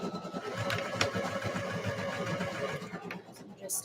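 A sewing machine hems a skirt in a steady, continuous whir with a faint rhythmic pulse that carries throughout, while a person talks over it.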